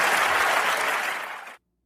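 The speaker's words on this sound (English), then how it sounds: "you hear the crowd laughing along and start clapping at the end" A live audience bursts into loud applause and laughter, a dense wash of clapping that carries steadily and then cuts off abruptly.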